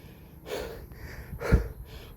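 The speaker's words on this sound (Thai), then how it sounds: "หอบ หอบ หอบ หอบ" Heavy, ragged panting breaths from someone climbing stairs up a hill, close and loud, with a few rough gasps and a sharp snorting exhale in the middle.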